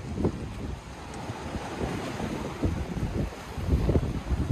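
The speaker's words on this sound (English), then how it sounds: "Lake ইরি মোটামুটি বেশ উত্তাল আছে এবং যথেষ্ট পরিমাণে বাতাস হচ্ছে।" Strong wind buffets the microphone while rough waves churn and slap against the shore of Lake Erie near Point Pelee, a steady roaring wash with recurring surges, close and loud, with no voices.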